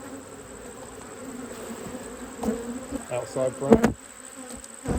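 Honey bees hum steadily around an opened hive while frames are inspected during a colony split, with a close continuous buzz, a few knocks and clatters of handled frames, and a brief spoken remark.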